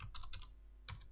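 Computer keyboard typed on at close range, a few quick soft clicking keystrokes in two short bursts, quiet and alone.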